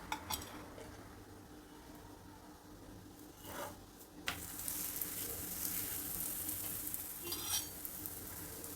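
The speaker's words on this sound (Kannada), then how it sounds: "ಹಂಚು ಬಿಸಿಯಾಗಿದೆ ಪರೋಟ ಬೇಯಿಸೋದಕ್ಕೆ ಹಾಕ್ತಾಯಿದ್ದೀನಿ" A vegetable paratha cooks on a hot griddle over a medium flame with a steady, soft sizzle. The sizzle grows brighter and louder partway through, and a few light scrapes and clinks of utensils sound nearby.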